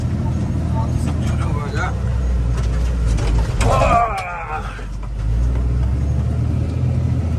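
A Fendt 924 Favorit tractor pulls an Amazone Catros disc harrow, a continuous low engine rumble with mechanical clatter and a brief squealing rattle midway, with people talking over it.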